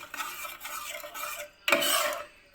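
A spoon stirs sugar into carrot payasam in a metal pot, scraping in a steady rasping rhythm that pauses briefly and then resumes louder, close up with no talking.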